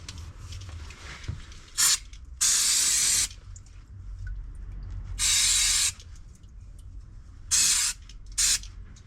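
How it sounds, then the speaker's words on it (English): Brake cleaner hisses from an aerosol can onto a car part during an oil change on a Land Rover Discovery 3, in four or five short bursts of up to a second, separated by quiet workshop background. "Bit of brake cleaner."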